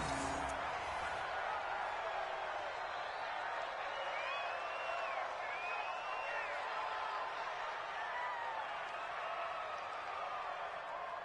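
A steady stadium crowd roar fills a PS4 American football video game as the home team loses, a continuous, even wash of noise with faint cheering tones rising now and then.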